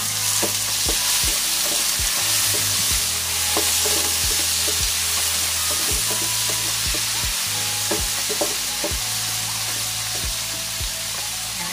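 Tomato drops into a hot, sizzling pan for salmon belly sinigang: a loud, steady frying hiss runs throughout, with soft stirring knocks recurring every second or so.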